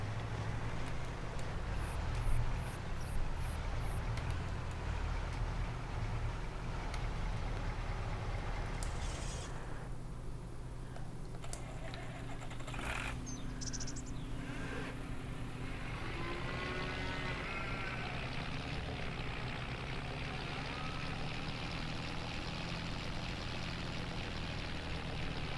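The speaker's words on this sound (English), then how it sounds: "I like this little tractor. The more I use it, the more I like it." Small farm tractor engine running steadily for a long stretch, a constant low droning rumble at close range with some brief higher mechanical noises over it; no talking.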